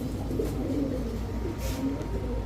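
High-flyer Giribaj pigeons at a market, soft low cooing under a steady background rumble, fairly faint and continuous.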